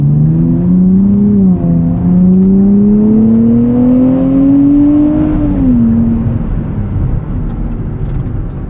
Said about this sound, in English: I love the way this sounds, though. It sounds like a sports car.